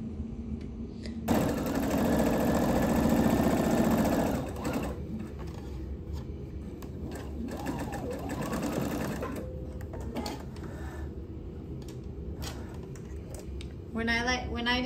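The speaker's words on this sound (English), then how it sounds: "we're gonna sew the darts" A sewing machine stitches darts in a skirt, with a loud steady whir for a few seconds, then a softer run of stitching that starts and stops. A voice is heard faintly in the background.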